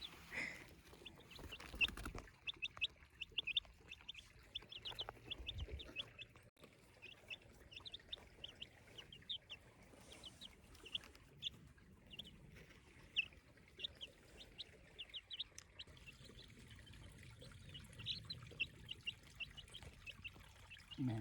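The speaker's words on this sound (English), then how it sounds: "And now some clips about my chickens and ducks." Chickens and ducks on a backyard trail, with repeated faint clucks and chirpy calls scattered through a quiet outdoor background, no one talking.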